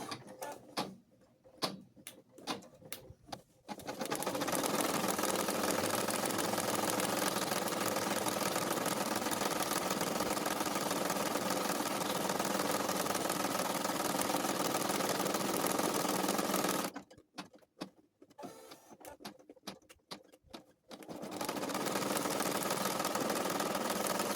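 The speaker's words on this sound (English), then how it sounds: "So we're going to load it into our embroidery machine and stitch out the placement stitch" A home embroidery machine stitches out a placement outline on fabric for cloth doll arms, a fast steady mechanical whir with a rapid needle rhythm, running close for long stretches and broken by brief clattering stops and restarts.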